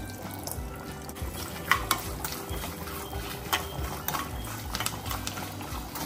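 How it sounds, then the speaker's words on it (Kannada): Cashews frying in ghee for bisibelebath, a soft steady sizzle with light stirring scrapes and occasional clinks, close and fairly quiet. "ಮತ್ತು ಗೋಡಂಬಿ, ತುಪ್ಪ ಹಾಕ್ಕೊತಾ ಇದ್ದೀನಿ."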